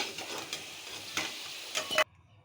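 Potato pieces fry in a pan as they brown, a close sizzle broken by a few stirring scrapes, then cutting off abruptly near the end.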